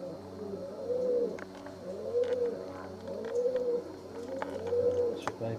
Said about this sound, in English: There's a dove cot with actual doves in it.